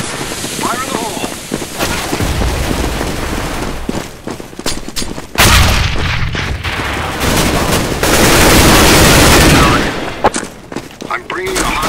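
Loud, booming explosions and heavy gunfire fill a round of Counter-Strike: Global Offensive on the cs_office map, with repeated blasts and sustained firing while voices call out over the noise.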